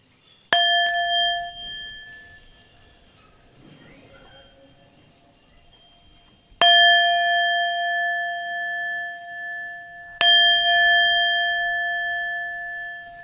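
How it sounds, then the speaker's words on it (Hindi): Three separate temple bell strikes, each a clear ringing tone that sustains and slowly fades, spaced several seconds apart, with faint background noise between. "मंदिर की घंटियाँ आपको सुनाई दे रही है।"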